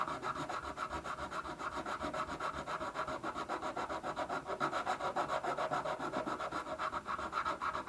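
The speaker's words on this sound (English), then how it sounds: "we are gonna go through and sand all of this," Steady back-and-forth sanding across wood veneer and a glue joint on a Harmony Roy Rogers guitar body, a close, even rhythmic rasping that continues throughout without talk.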